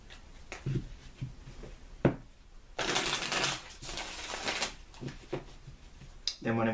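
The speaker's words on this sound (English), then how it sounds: "I need to shuffle one more time" A deck of tarot cards being shuffled up close, a burst of riffling and papery shuffling with soft handling noises before and after.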